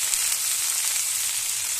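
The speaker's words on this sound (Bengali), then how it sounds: "পেঁয়াজ আর রসুনটা কিন্তু হালকা করে ভেজে নিয়েছি। এবার দিয়ে দেবো ডিম" Egg dropped into hot oil with lightly fried onion and garlic, giving a steady, close, bright sizzle that holds evenly for a couple of seconds.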